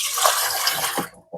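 Water pouring into a container to top up a compost tea mix, a loud, steady rushing fill that cuts off near the end, followed by a short faint splash.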